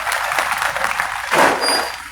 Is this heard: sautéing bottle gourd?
no